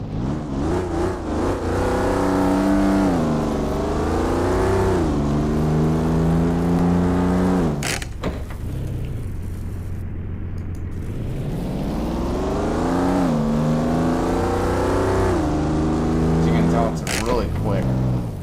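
A 502-horsepower car engine in the game Garry's Mod revs up and down repeatedly, its pitch rising and falling in loud, close sweeps with a brief cut and a few sharp clicks.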